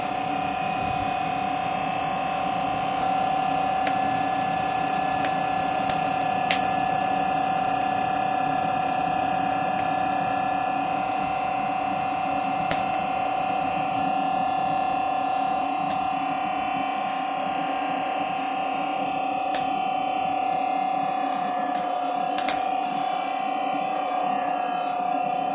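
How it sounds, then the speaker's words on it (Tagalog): An electric blower fans a small wood cooking fire under a pot. It gives a steady, loud mechanical drone with a constant whine that runs unbroken for the whole stretch, with no voices over it. "Ginagamitan po ng blower."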